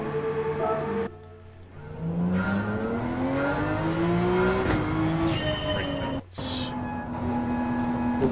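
A Porsche race car in the Gran Turismo 7 racing game, its engine loud and close, revving and climbing through the gears with brief dips at each upshift.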